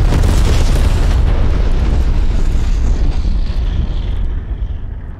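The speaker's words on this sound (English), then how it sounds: "Enemy napalm strike incoming." A napalm strike in Call of Duty: Black Ops Cold War multiplayer lands as a massive, roaring explosion that rumbles on continuously, loud and close, slowly thinning out over several seconds with aircraft noise blended in.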